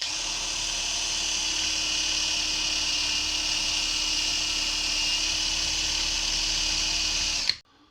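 A steady high-pitched whine as a rivet spun in a drill is scored with a hacksaw, metal grinding continuous and loud for several seconds before cutting off abruptly.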